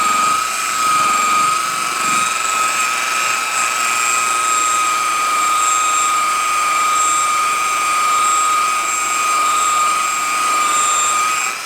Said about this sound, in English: we're going to go up 1 speed on the buffer